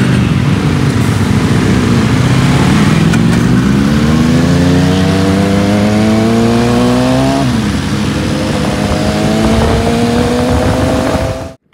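Superbikes including a Ducati Panigale V4 rev and pull away one after another, their engine notes rising loudly through the gears, dipping and climbing again, with steady nearby engine roar and no talking.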